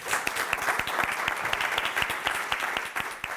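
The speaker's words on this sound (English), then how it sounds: "Please give a warm round of applause as he joins us on stage." An audience at a community address gives warm applause for an award winner joining the stage, dense continuous clapping with distinct individual claps standing out nearby.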